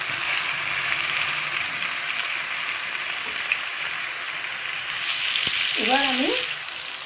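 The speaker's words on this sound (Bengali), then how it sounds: "ভালো করে নেড়ে নিলাম।" Pumpkin and potato frying in a pan give off a continuous bright sizzle, close and even, with the odd soft stir; a faint, brief rising tone sounds near the end.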